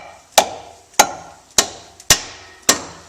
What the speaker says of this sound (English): You can even use a block of wood and a hammer.